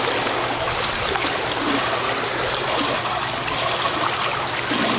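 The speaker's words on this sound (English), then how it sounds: "now we're just gonna do some normal treading water" Swimmers treading water in the deep end of a pool during a post-practice workout, a steady continuous splashing and sloshing wash of water, fairly close and even throughout, with no voices.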